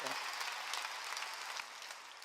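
A church congregation claps during a sermon, a faint, steady spread of applause that continues throughout at a distance.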